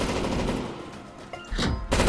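Continuous gunfire in the video game CS:GO Danger Zone, a dense stream of shots and crackles without pause, with sharper bursts near the end and no speech.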